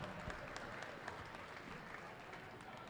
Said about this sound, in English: So give them a round of applause and thank them.